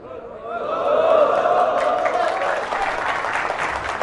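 Applause from an audience gathered in a mosque swells quickly and holds steady, a dense close wash of clapping hands.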